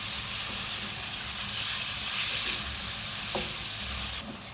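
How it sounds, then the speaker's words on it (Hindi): Sliced onions fry in a pan for a Pakistani-style qeema, giving a steady broad sizzle with faint stirring taps, close and continuous without talk. "फ्राई करेंगे प्याज को और इसका अच्छा सा गोल्डन कलर करना।"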